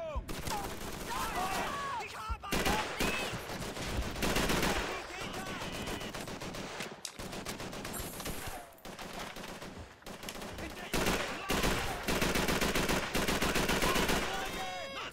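Heavy gunfire in the video game Call of Duty 3, loud repeated machine-gun bursts and single shots in close succession, with brief pauses and shouting voices mixed in.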